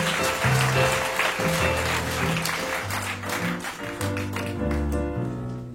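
An audience applauds Madeleine at an Apei Thonon Chablais gathering, a steady wash of clapping under stepped, tonal music that fades slightly toward the end.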